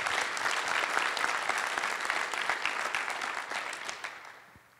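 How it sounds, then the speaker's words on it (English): A conference audience at an application-security event applauds its volunteers, a dense, steady wash of many hands clapping that holds for several seconds before tapering off at the end. "So a big applause for the volunteers."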